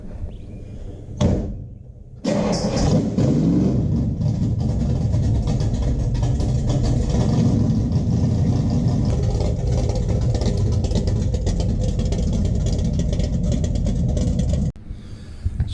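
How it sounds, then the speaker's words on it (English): A 1969 Dodge Dart street car with a 520 cubic inch engine cold starts after a brief crank, then settles into a loud, steady, rumbling idle close by that holds for over ten seconds before shutting off. "All right, cold start coming here"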